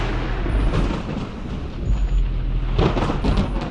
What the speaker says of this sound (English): if just one bolt of lightning hits a building, it could be immensely destructive